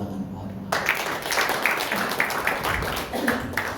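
A church congregation at a New Year worship service breaks into applause, with dense clapping starting suddenly after a brief lull and continuing steadily, mixed with voices.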